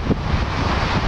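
Wind buffets the microphone outdoors on a breezy, sunny day at the edge of Storm Ciara, a steady loud rumbling roar with gusty swells.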